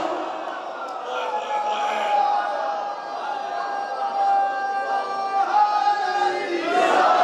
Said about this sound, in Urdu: محمد رسول اللہ کے نعرے لگاتے جاؤ